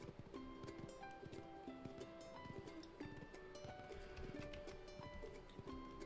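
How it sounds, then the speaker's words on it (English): Steady, rapid clip-clop of a horse's hooves being ridden in the hunting game Morels: The Hunt 2, over a soft bed of ambient game music and forest sound, with no talking. "The horse is faster than the ATV."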